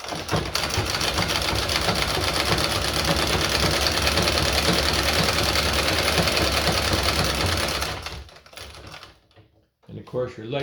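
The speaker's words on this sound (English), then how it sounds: "with this treadle, you can go as slow or as fast as you want to go" A treadle-powered sewing machine runs steadily and loudly for about eight seconds with a dense, fast rattling stitch, then stops abruptly, leaving only faint sounds behind.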